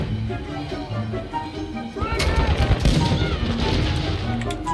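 In Call of Duty: Modern Warfare II, a heavy sniper rifle fires amid busy game gunfire and impacts, sharp bursts breaking out about halfway through over a background of game noise.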